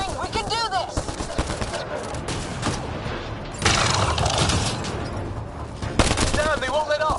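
Rapid automatic gunfire in the sci-fi shooter Mass Effect Andromeda, dense bursts of shots rattling continuously with sharper louder volleys, mixed with game sound effects and occasional voices underneath.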